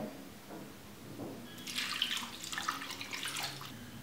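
Water, 1.5 cups, is poured into a kadai for kalan, a soft, quiet splashing that begins partway through and continues to the end, alone without speech.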